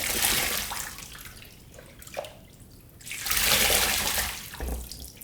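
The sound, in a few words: water rinsing a trumpet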